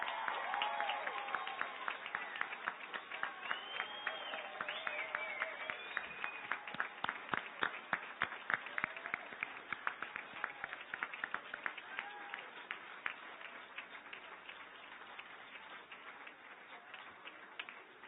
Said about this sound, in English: Let's give one more round of applause to these alumni of Ivy Tech.